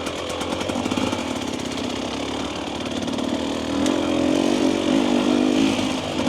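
A 2025 Husqvarna TE300 dirt bike lugs along in third gear on a trail, its two-stroke engine putting out a steady, strained low drone that swells a little louder toward the end, heard alone with no talking.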